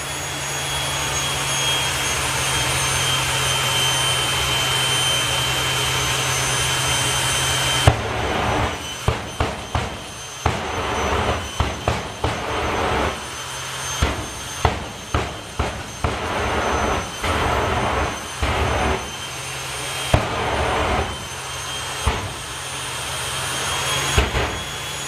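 A drag racing engine at the Dragstalgia 2021 event drones loudly and steadily, then breaks into a run of sharp, rapid bursts as the thrust is wound up.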